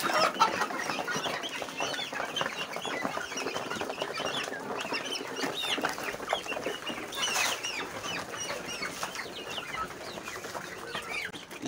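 Local chickens and guinea fowl on a farm cluck and call continuously, a busy overlapping flock chatter filling the whole stretch at steady moderate volume with no talking.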